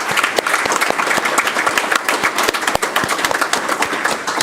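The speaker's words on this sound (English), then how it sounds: "if you'll please stand and join me in giving Councilman Perry a round of applause" At a city council meeting, the room gives a councilman a round of applause: close, crisp hand claps from a modest group, continuous and fairly loud with no talking.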